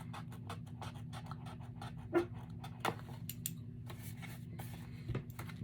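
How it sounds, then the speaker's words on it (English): A dog pants rapidly and steadily up close, with occasional scratching or scuffling noises over the rhythmic breathing. "You better quit barking."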